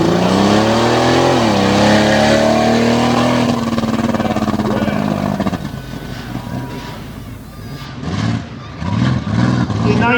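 A little squiggle-tread Ford Bronco roaring down the drag strip, its engine note rising then fading as it passes, followed by further revving bursts with an announcer talking over it.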